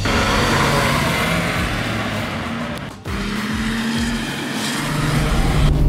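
A rear-wheel-drive BMW M3 drifts with its engine roaring loudly and close. The engine briefly lifts off around the middle, then the throttle builds again, with hints of tire noise over the drone.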